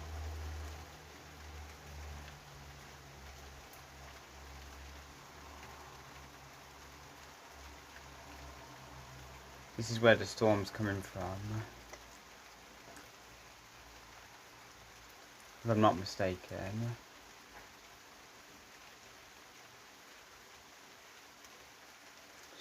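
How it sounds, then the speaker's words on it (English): Steady rain falls outdoors ahead of an approaching severe thunderstorm in England, a soft continuous wash of drops heard from outside, with someone talking briefly over it twice. "It's definitely raining now."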